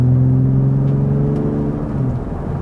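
A 2023 Ford F-150 Raptor's twin-turbo 3.5-liter EcoBoost V6 with equal-length looped exhaust drones steadily at close range, a low even engine hum holding through the whole stretch with a slight dip near the end.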